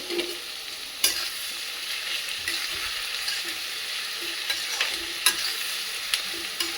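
Onions frying with salt in a pan are stirred, giving a steady soft sizzle broken by periodic sharp utensil scrapes and taps against the pan, close and moderately quiet.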